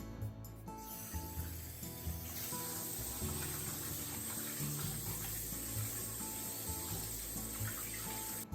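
Tap water runs steadily into a sink while shrimp are rinsed, a continuous close splashing stream with faint clinks and handling noises underneath.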